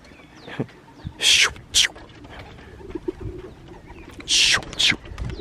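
Young pigeons take off one after another in the early morning, with several sharp, loud bursts of wing clatter in pairs, separated by quieter stretches where someone speaks and a bird coos softly.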